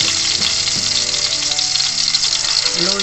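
Garlic sizzles steadily in hot cooking oil, a loud, continuous frying hiss with a few soft clinks near the start, no talking over it.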